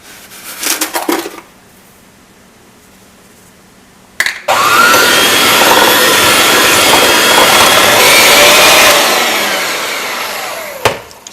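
An electric mixer creams butter with equal parts brown and white sugar for chocolate chip cookies, starting with a short burst, then running loud and steady for several seconds before cutting off.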